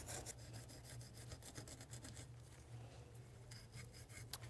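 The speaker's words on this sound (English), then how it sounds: "I'm going to finish with a little Scotch-Brite and contact cleaner" Scotch-Brite pad and contact cleaner scrubbing a Polaris RZR 900 engine cover, a steady close rasping rub that continues throughout over a low hum, with no talk.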